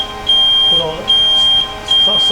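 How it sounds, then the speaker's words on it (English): Loud electronic alarm on a WDS 800 machine after its emergency stop is pressed, a steady high-pitched tone pulsing in three long beeps that cut in and out. "if you need to stop at emergency, you'll press that down. It'll sound an alarm"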